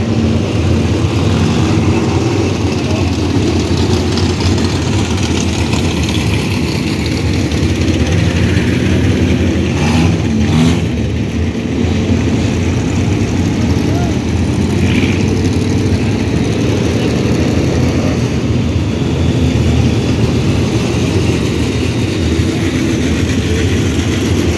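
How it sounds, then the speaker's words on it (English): A military truck's engine idles and rumbles steadily at a race track, a low continuous drone with faint mechanical clatter holding level throughout, no voices. "we've got another military truck getting ready to head out to the track"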